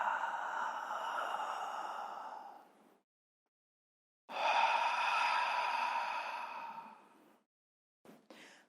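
Slow, audible ujjayi pranayama breaths drawn through a constricted throat, two long hissing ocean-like passes of several seconds each, close and steady, separated by silence and ending with a couple of short breath fragments.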